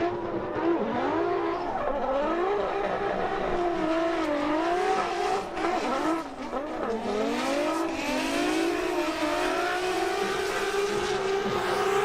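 Formula Drift Pro Spec cars in a Top 32 pair run at Grantsville, Utah, engines revving hard with sweeping pitch changes and tire squeal throughout, loud and continuous with no talk.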